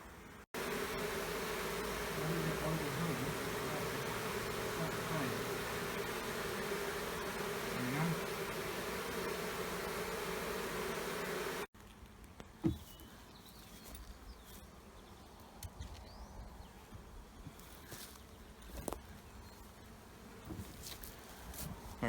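Honey bees at a beehive entrance on a sunny day, carrying pollen in: a dense, close, loud buzz for about eleven seconds, then a fainter hum broken by scattered clicks and bumps.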